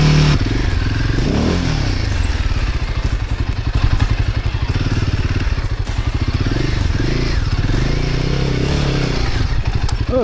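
A trial motorcycle revving hard while climbing a rough section at a trial event, its engine close and loud with rapid pulsing bursts and clattering, scraping knocks throughout.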